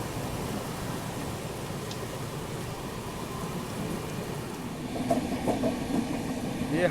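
A train hauled with a banker locomotive pushing from the rear rolls through heavy monsoon rain, a steady rumble of rail noise blended with the continuous hiss of rainfall, growing slightly louder near the end.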